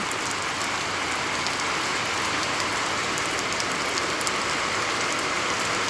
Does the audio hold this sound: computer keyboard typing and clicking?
no